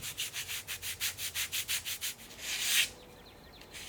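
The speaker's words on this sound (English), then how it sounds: "Then I sanded the surfaces of the leather with a 220 grit." Leather being sanded by hand with 220 grit sandpaper outdoors, about a dozen rhythmic rasping strokes followed by one longer rub, close and clear with no talking.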